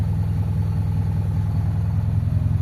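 Honda Civic ESi engine idling very low with the aircon on and losing power: a loud, steady low rumble with a fast rhythmic throb and faint clatter, no talk.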